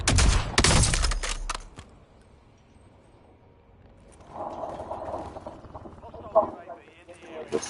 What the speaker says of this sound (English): some shooting at me from over there